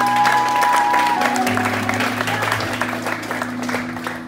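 A church congregation claps together, a dense patter of hand claps over sustained keyboard music that gradually thins and softens toward the end.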